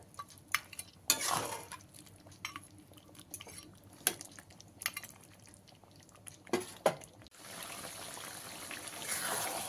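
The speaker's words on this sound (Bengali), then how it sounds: "যতক্ষণ মাংস থেকে তেলটা ছাড়ছে এইভাবে কষিয়ে নিতে হবে" Marinated chicken is stir-fried in a pan for a Bengali pepper chicken dish, giving quiet intermittent scraping and clinking of a utensil against the pan, with a soft steady sizzle rising toward the end.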